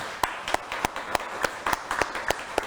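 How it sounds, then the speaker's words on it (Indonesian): Scattered, evenly spaced claps from an audience at a personal finance talk show, about a dozen sharp hand claps in a steady rhythm, fairly faint and close. "waktu tepuk tangan rame ya?"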